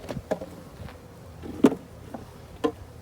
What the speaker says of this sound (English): I'm going to get the bees wet slightly so that they won't fly.